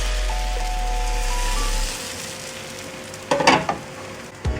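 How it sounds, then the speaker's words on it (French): A ladle of crêpe batter spread in a very hot pan, with a low hum at first, then a quiet sizzle and a couple of short louder scraping clatters near the end. "On verse une louche dans la poêle bien chaude"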